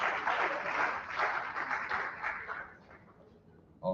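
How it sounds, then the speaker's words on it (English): An audience at a voter-access event gives a round of applause, a dense patter of clapping that holds steady and then fades out toward the end. "Please, a round of applause once again for Dr."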